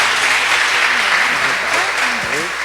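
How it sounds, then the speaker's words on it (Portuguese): A church congregation applauds steadily and loudly at a worship service, a dense wash of clapping with some voices audible beneath it throughout. "a igreja receba a vida da pastora aplaudindo ao nome do Senhor pela vida dela"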